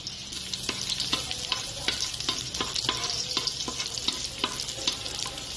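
Garlic sautés in hot oil in a giant kawali, a steady close sizzle with rapid crackles and repeated scraping strokes of a spatula against the pan.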